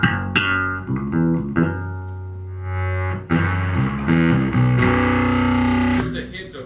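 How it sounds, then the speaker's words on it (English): An electric bass plays through an SWR amplifier with a crunchy distortion blended in, sounding as sustained, growling notes and chords in a close, loud, steady phrase with short pauses between. "It's just a hint of really crunchy distortion in the background"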